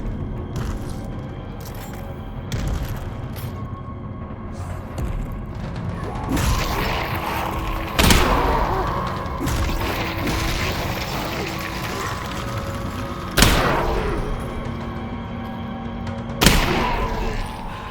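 Gunfire in the VR game Half-Life: Alyx, with a few sharp loud shots spaced several seconds apart over mechanical clicks and handling noises from the weapon.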